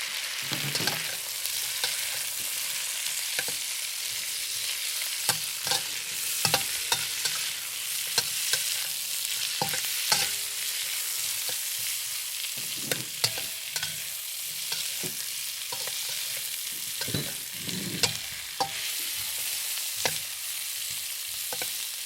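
Carrot and cucumber stir-fried in a pan, heard as steady sizzling with repeated scraping and clattering strokes of a utensil throughout, fairly close and with no talking.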